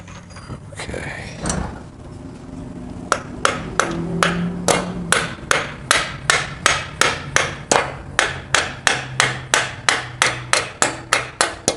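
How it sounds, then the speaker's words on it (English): A hammer taps a cam expander on a Harley Panhead engine, a steady run of sharp, evenly spaced metallic blows up close after a few quieter knocks. "got backhanded hammer action there."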